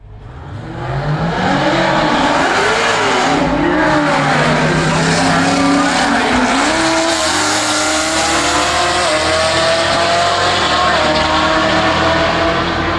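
Drag racing cars, including a Camaro and a Corvette, launch down the strip at a street car takeover event in Indianapolis. Loud, continuous engine roar climbs in pitch as the cars accelerate, with tire screech at the start.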